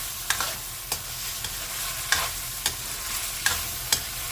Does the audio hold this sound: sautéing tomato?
yes